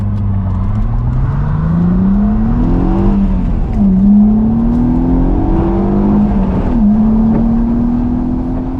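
Idling Mazda Miata engine with a noisy power steering pump, a steady close drone under a whining tone that rises and dips as the revs change, with no talk.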